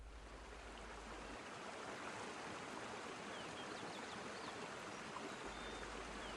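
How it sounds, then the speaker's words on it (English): Kara Darya river flowing through the city of Osh in Kyrgyzstan, a steady rushing wash of water, dense and even throughout, with no voices. "Flowing through the city is Kara Darya, or the Great River."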